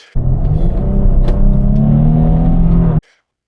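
A loud 2025 Infiniti QX80 SUV engine accelerates steadily for about three seconds, its pitch climbing smoothly before cutting off abruptly.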